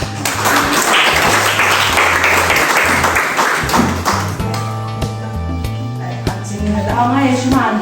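Applause from an audience at a Mother's Day celebration, a dense clatter of clapping over the first half, blended with music and tonal notes that carry on after the clapping thins out.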